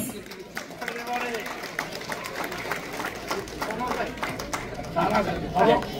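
Crowd claps at the opening of the FOBANA convention in Niagara Falls, New York, steady applause with chatter mixed in, and someone speaking over the clapping throughout.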